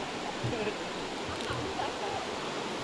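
A river flowing at a rope crossing near Kuala Kubu Bharu, a steady broadband rush of running water filling the short stretch, with a faint voice briefly over it.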